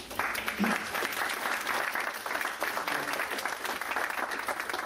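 A crowd applauds steadily for about five seconds, a dense, even patter of many hands clapping with no talking over it.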